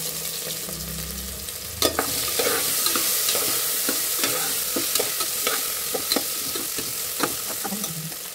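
Potatoes and onions frying together in oil while a spatula stirs them, a steady sizzling hiss broken by repeated scraping strokes against the pan, heard up close with no voices.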